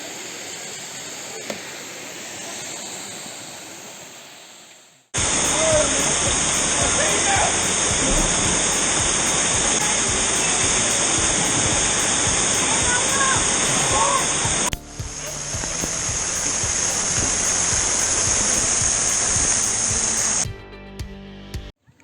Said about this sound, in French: nous voilà arrivés aux cascades du Hérisson